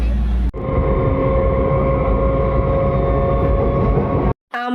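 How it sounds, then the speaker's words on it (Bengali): Inside a moving train, a steady rumble with a humming drone carries on for a few seconds, cut off sharply at both ends. "আমাদের ট্রেন চলে এসছে। আমরা ট্রেনে উঠে পড়েছি।"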